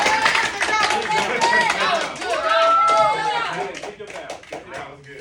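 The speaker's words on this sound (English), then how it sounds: "Clap it up." Students clapping in a classroom, a burst of sharp, scattered handclaps mixed with excited voices and chatter, peaking early and then thinning out toward the end.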